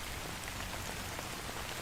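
Steady rain falls in a video game, a dense, even hiss of drops at moderate volume with no voices.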